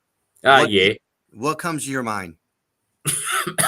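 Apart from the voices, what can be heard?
cough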